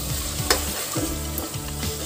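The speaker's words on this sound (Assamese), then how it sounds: "গোটেইখিনি মিক্স কৰি ভালদৰে ফ্ৰাই কৰি লওঁ" Chicken pieces being stirred and fried in a pan for corn rice chicken biryani, with a steady close sizzle and a few scraping stirs of the spoon, no voices.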